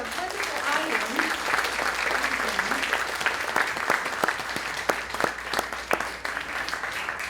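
An audience applauds at a film presentation, with dense, continuous clapping at moderate distance and a voice talking over the start of it.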